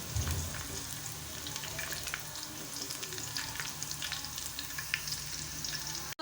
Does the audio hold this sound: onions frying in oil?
yes